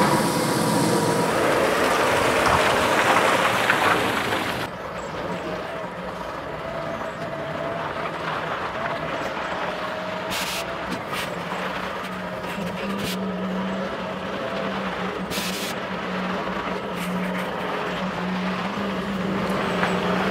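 A screed lorry reversing into a driveway: a loud, steady engine drone throughout, a little rougher for the first few seconds, with a few brief higher bursts on top.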